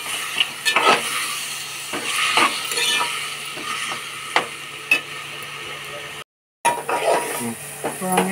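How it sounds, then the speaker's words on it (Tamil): Tomatoes and onions sauté in a pan with a pinch of rock salt for a prawn gravy, giving a steady soft sizzle broken by spoon scrapes and clinks against the pan, close up, with a brief dropout near the end. "இப்போ தக்காளி நல்லா வதங்கிறதுக்காக கொஞ்சமாக கல் உப்பு போட்டுக்கிறேன்."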